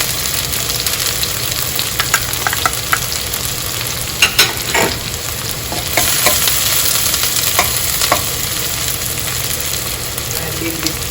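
Garlic frying in a pan for chicken biryani, a steady sizzle with occasional stirring scrapes throughout, close and fairly loud with no talking.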